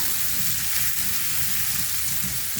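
Brinjal sautés in oil for a Kongu-style cowpea and brinjal kuzhambu, giving a dense, even sizzle that stays close and loud throughout without any talking.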